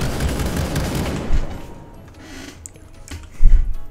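Shotgun-wielding spider creature firing in People Playground, a loud crackling barrage of blasts that fades, then a final heavy burst near the end.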